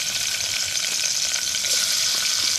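Onions sizzle and crackle steadily in a hot pan, a continuous loud frying hiss with no pauses, apparently an outdoor home kitchen in the Philippines.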